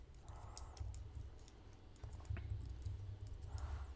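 Typing on a computer keyboard while coding, with soft, irregular key clicks at close range under steady low background hum, and no talking.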